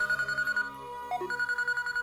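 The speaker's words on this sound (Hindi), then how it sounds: "फोन उठाओ बेटी" A telephone rings with a repeating electronic tone in steady pulses, briefly interrupted midway and then resuming, at moderate level with no voices.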